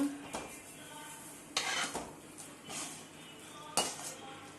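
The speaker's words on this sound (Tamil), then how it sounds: "கொஞ்சம் கொஞ்சமாக போட்டு அப்படியே கிண்டிக்கிட்டே இருக்கணும்." Dry roasted rava (semolina) being stirred in a pan for rava khichadi, a spoon scraping and clinking against the metal in a few separate strokes, close and moderately loud with no voices.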